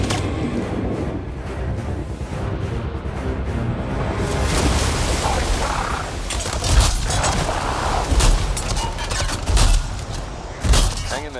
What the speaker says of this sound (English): We're getting some fire from up ahead.